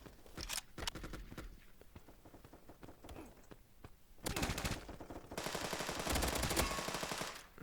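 Automatic gunfire from the free online first-person shooter Fire Strike Online, with a short burst early on, a louder burst near the middle and a sustained, dense volley at the end. No one talks.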